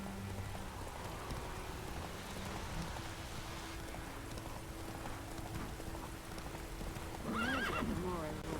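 Roach, a horse in the video game The Witcher, gallops with steady rhythmic hoofbeats under light rain, ending in a loud close whinny near the end; a person talks over the hooves.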